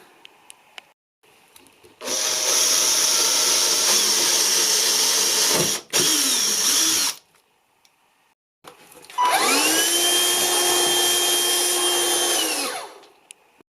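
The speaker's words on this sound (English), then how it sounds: "I'm going to get my drill out, and then I'm going to drill the holes." A power drill whirs loudly in two long bursts drilling holes for model railway layout wiring, pitch dipping as it bites and winding down at the end of each run.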